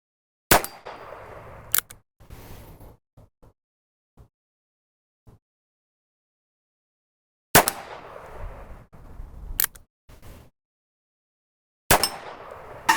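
Shots from a Heritage Tactical Cowboy suppressed revolver fired outdoors: a few sharp reports in two clusters separated by several seconds of near silence, with faint ticks between.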